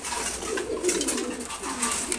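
Several female pigeons in a loft, including ghiya-chulli, giribaz and red khaki birds, give soft, low repeated coos that continue steadily through the moment alongside faint background noise.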